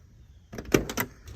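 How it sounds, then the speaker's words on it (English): A door of a restored 1967 Chevelle Malibu opens and shuts. After a quiet start come a brief mechanical latch click and a clunk, followed by a few softer rattles. "look how these doors open and close so nicely"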